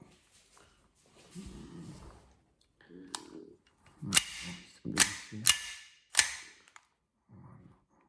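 A Sig Sauer 1911 Spartan CO2 airsoft pistol fires four sharp, snappy pops in quick succession, close and fairly loud, with someone talking quietly before and after the shots.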